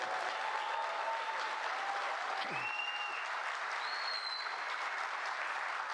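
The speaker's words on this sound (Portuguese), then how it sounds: "Uma salva de palmas a ela." An audience at a public event gives a round of applause, steady dense clapping throughout at moderate level, with a brief faint voice and whistle over it.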